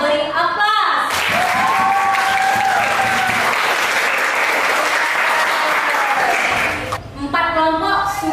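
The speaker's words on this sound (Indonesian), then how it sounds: "kita beri aplaus" Classroom applause for a student group, a burst of clapping from many hands that swells in and holds steady for several seconds before cutting off, with a teacher's voice speaking at the start and end.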